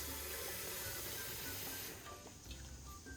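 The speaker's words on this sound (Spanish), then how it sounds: "yo lo lavo en una coladera para que no salga nada" Tap water runs steadily into a sink as black beans are rinsed in a colander, a continuous hiss with light splashing that thins slightly toward the end.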